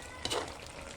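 Sponge gourd (patola) pieces drop into a pot of simmering vegetable broth with squash, giving a short splash and sizzle over steady cooking noise, with no talk.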